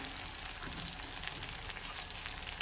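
Cumin and coriander seeds fry in a pan, a faint, even crackling sizzle heard up close and without speech.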